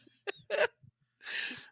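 A person imitates hiccups with their voice, giving a few short, sharp gulping hics followed by a longer breathy sound, close and alone.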